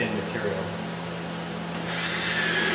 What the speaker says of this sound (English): use these number six wood screws to screw this down